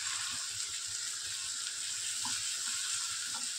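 Ginger, garlic and coconut paste sautéing in a pan after onions: a steady, hissing sizzle runs throughout at moderate level with soft occasional stirring ticks and no talk.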